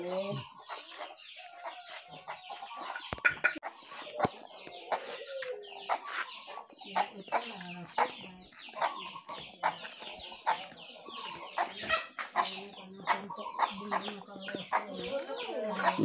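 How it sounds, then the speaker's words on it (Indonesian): Chickens outside the coop in a village yard cluck and chatter near and far in busy bursts, with hens and chicks calling together, a faint crow somewhere and quiet voices now and then. "Ini kita mau lihat-lihat dulu ayamnya ya, Bu."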